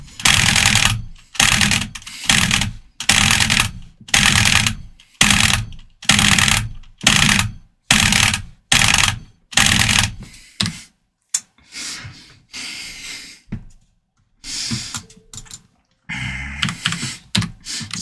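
Rapid computer keyboard typing in dense bursts of keystrokes separated by brief pauses, close and loud, with a few scattered clicks near the end.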